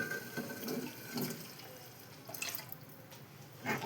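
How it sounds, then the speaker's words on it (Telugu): Water splashes and trickles in short bursts, poured into a pressure cooker of snail curry, with faint clinks between pours. "ఇప్పుడైతే వాటర్ వేసేసుకోవాలండి"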